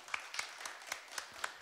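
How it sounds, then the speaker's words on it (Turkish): Scattered clapping from a small audience honouring the hosts, a handful of distinct hand claps at a loose rhythm, fairly faint and close, with no voices. "Bunlara yürekten bir alkış gönderelim buradan."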